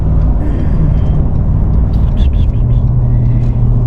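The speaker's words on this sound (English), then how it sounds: "a lot of traffic coming through Birmingham." Steady, loud road traffic passes through Birmingham, Alabama as a continuous rumble of cars and heavier vehicles, with someone talking over it.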